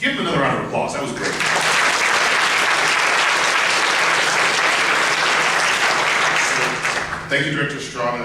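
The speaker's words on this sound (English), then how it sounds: "Give him another round of applause." Audience applause after a talk at a university lecture event, a full sustained burst of many clapping hands lasting most of the clip, with a voice speaking briefly at the start and end.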